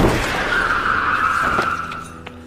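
A car in a film scene skids before hitting a man, giving a sustained tire squeal of about a second and a half over a rumbling background that fades toward the end.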